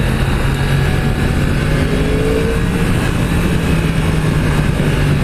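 A 2016 Yamaha YZF-R1 sport motorcycle is ridden, its engine droning steadily under constant wind rush with one brief rising rev, loud and close to the rider.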